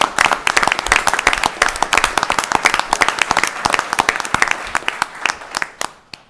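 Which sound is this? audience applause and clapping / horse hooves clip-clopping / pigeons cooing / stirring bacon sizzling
audience applause and clapping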